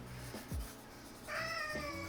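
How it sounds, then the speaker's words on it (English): Baby kittens in an art studio meow repeatedly up close, with a couple of short cries and then a longer, higher meow, and no speech. "The baby kitties in the studio today are just hollering at me."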